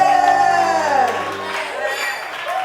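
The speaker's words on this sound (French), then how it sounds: "est-ce que tu peux pousser des cris de victoire?" Church congregation at a prophetic prayer service shouting loud, sustained cries of victory together, a dense wall of raised voices close by.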